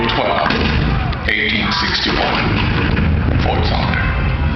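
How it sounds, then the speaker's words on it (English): Cannon fire at Fort Sumter in 1861 rumbles in heavy booms and thuds layered under dramatic narration, with the dense, low rolls of artillery carrying on throughout. "The cannon spoke for war, bitter, violent, and devastating."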